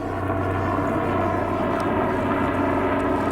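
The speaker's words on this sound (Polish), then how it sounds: "co to jak nie helikopter?" A steady, droning engine roar with a pulsing low hum fills the air continuously, like a rotor aircraft passing nearby.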